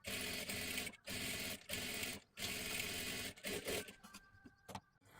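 A sewing machine stitches a blouse lining in several fast, buzzing runs broken by short pauses, ending in choppier bursts.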